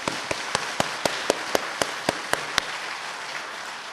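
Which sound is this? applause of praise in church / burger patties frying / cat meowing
applause of praise in church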